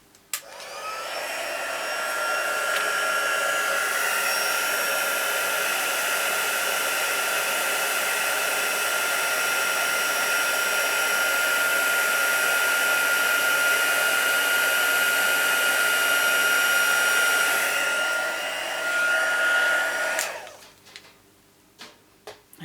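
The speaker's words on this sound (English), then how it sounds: "now I have my heat tool here" A handheld crafting heat tool used on botanical vellum papercraft flowers blows with a steady, loud, breathy whoosh for about twenty seconds, then cuts off, leaving a few faint clicks.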